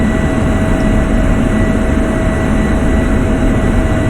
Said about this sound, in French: le bruit des moteurs de l'avion sont plus fortes que ma voix